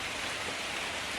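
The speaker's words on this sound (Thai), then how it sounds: "เช้านี้ฝนตกอีกแล้วครับท่วมอีกแล้วครับ" Morning rain falling steadily in a flooded rural area, a dense, even hiss of drops spread across the whole clip, soft and continuous with no voices.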